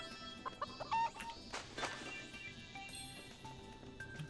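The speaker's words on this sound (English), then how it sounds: "Pick up your chicken, give it a nice little hug." A chicken clucks in the farming video game Harvest Moon: Light of Hope, a few close, soft clucks over light game chimes and tonal background music.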